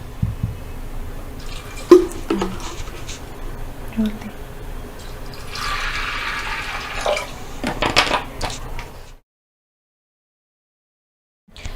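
Water poured into a pressure cooker holding soaked mixed lentils, a bubbling splash and trickle over several seconds with a few knocks and drips, ending in silence.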